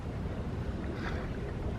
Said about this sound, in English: Yeah, it's been windy this whole time.